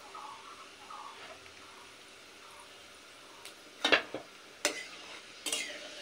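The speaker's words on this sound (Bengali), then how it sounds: "ফোড়নটা একটু কড়া করে ভেজে নিতে হবে।" Whole spice tempering frying in oil for a jaggery mango pickle gives a faint low sizzle, broken by a few louder scraping stirs of a spoon against the pan.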